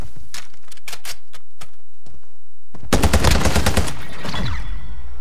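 Gunfire in a Call of Duty Modern Warfare II multiplayer shootout match begins as a few sharp, spaced single shots, then breaks into a loud, rapid automatic burst that rattles on for a couple of seconds.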